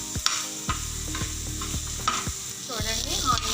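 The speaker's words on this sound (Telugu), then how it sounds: "చూడండి, ఆనియన్స్ బాగా ఫ్రై అయిపోయింది" Onions frying in a pan for a masala omelet, a steady close sizzle with repeated scraping stirs of a spatula against the pan every few tenths of a second.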